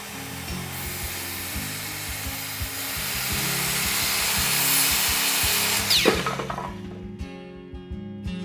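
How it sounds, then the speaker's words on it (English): Sustained buzzing power tool cutting high-quality cedar hardwood barge boards for a woodshed, steady and close for about six seconds, then a sharp clatter as the cut ends and the motor winds down, with no talk. "Next, I cut 4 barge boards."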